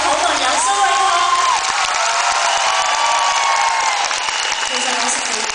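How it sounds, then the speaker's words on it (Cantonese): Studio audience applauding and cheering for a guest at a Cantopop concert, a dense, steady roar of clapping and shouts with whoops rising over it throughout. "請大家俾啲掌聲"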